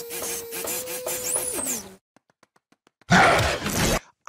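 A voice-activated 3D printer runs in a cartoon scene. Whirring, sliding tones with a rising electronic sweep are followed by a pause with faint ticks, then a loud harsh burst of mechanical noise.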